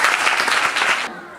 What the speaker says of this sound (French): Il faut applaudir cette école.